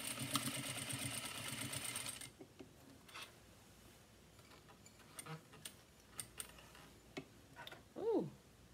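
A sewing machine stitches fabric in a fast, loud mechanical whir for about two seconds and then stops. Quiet ticks and handling clicks follow, along with a short squeak near the end.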